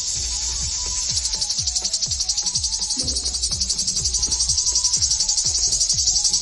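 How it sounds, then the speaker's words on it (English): Cicada buzzing, a loud steady high-pitched drone close by, joined by a fast pulsing throb that repeats rhythmically underneath and grows slightly stronger over time. "It's a cicada."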